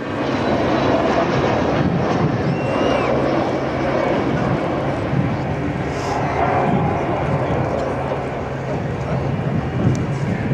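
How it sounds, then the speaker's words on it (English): An Avro Vulcan bomber in a flying display at an air show, its engines a continuous loud roar that holds steady as the jet comes back toward the crowd, with a commentator talking over it. "So Vulcan coming back in towards us."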